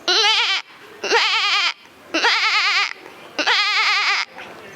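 A schoolboy mimics a goat bleating, producing four loud, quavering bleats in a row. Each bleat lasts about half a second, with short breathy pauses between them.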